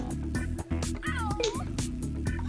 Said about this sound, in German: Und dann immer wenn eine Katze miaut.